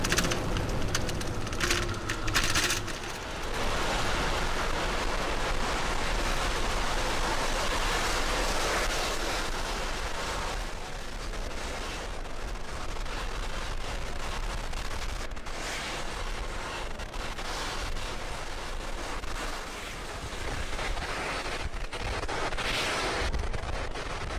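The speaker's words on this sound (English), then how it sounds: "Vehicle pitching downrange. Stage 1 propulsion still on." A Falcon 9 rocket's first-stage engines burn during ascent as the vehicle pitches downrange, producing a loud, continuous crackling roar with rumbling bursts that sustain for over twenty seconds without a break.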